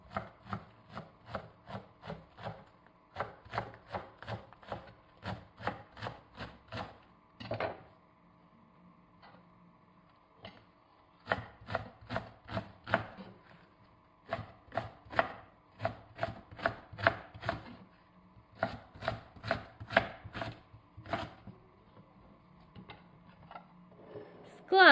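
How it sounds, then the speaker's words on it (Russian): A knife slices napa cabbage into thin strips on a cutting board: bursts of rapid, evenly spaced chops, close and crisp, separated by short pauses, with no talking. "и режем соломкой."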